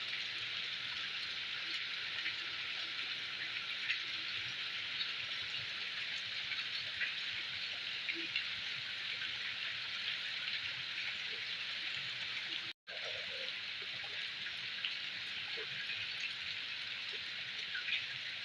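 Steady rain falls during an evening meal, a dense, even hiss of drops on surfaces that runs throughout, broken only by a moment's cutout partway through; no one speaks.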